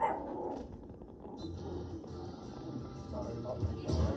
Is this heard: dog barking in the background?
yes